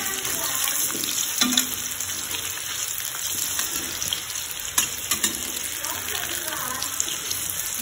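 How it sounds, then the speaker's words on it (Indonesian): Steady rain falls outside, a dense, even hiss throughout with scattered clinks and small kitchen sounds under it, and a voice speaking briefly. "Hujan lagi, alhamdulillah."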